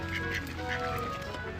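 Ducks quack close by while being fed nuts outdoors with squirrels around, several nasal calls in quick succession over a steady background, with faint human voices nearby.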